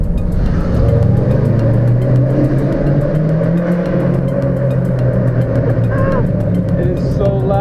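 A Ford Mustang's loud exhaust drones and revs close by, heard from inside the car with a window rolled down, its low rumble rising and falling while a voice speaks over it.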